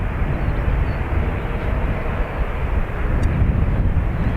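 Steady broadband roar of a Ryanair airliner departing Dublin Airport, a loud, continuous engine rumble with no voices.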